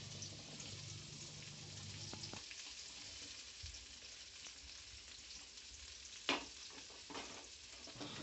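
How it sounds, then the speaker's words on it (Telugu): Okra pieces frying in hot oil in a pan give a steady, fairly quiet sizzle throughout, broken by a few soft clinks and one sharp knock near the end; no one speaks. "నూనె వేడెక్కిన తర్వాత బెండకాయలు వేసుకుందాం."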